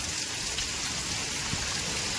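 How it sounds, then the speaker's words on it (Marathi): Dense, steady unseasonal rain in Konkan, India hisses continuously, a close, even wash of falling water with scattered drop patter. "बघा इकडे जोरदार पाऊस आहे"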